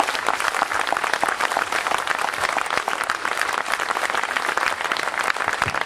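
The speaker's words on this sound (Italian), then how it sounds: "vi prego di fargli un grandissimo applauso" Loud, continuous audience applause at a Movimento Cinque Stelle party festival in Mira, Venice, a dense crowd clapping steadily throughout with no speech over it.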